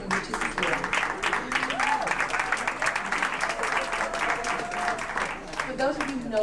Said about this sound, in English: You can clap before she even reaches the floor.